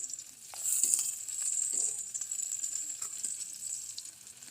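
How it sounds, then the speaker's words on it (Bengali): Onion and chopped dried chili frying in white oil, a bright continuous sizzle that swells and fades at close range with a few soft stirring scrapes, no voices. "এবার আমরা পেঁয়াজটা হালকা ভেজে নিব"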